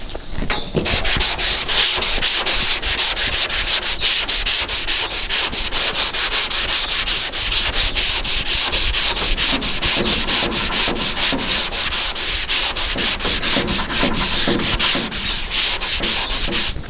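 A truck bed is sanded up close with a loud, continuous, rapidly pulsing abrasive scrape that holds steady throughout, with no voices.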